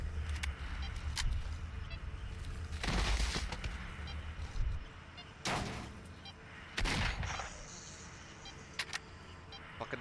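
Guns fire in the video game Stalker with the Narodnaya Solyanka overhaul mod: several loud, separate shots with long ringing tails over a steady background din, spaced a few seconds apart.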